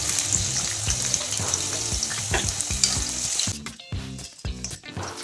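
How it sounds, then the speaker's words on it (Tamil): Potato sticks being half-fried for French fries hiss in a steady, loud sizzle, with frequent stirring clatters; the frying thins out and turns choppier toward the end. "இந்த மாதிரி ஒரு பாதி ஃப்ரை ஆனதுக்கப்புறம் நம்ம அதை எடுத்து வச்சுக்கலாம்"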